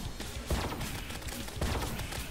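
Weapon fire from a Terraria boss fight against Plantera, made of rapid repeated shots in a dense, continuous burst at moderate level with no pauses.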